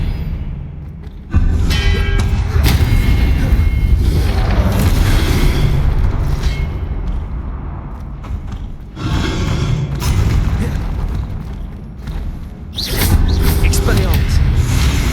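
Booming spell blasts and explosions from Hogwarts Legacy, heavy low rumbles that carry through most of the stretch with brief drops between bursts, mixed under a voice calling out spell names.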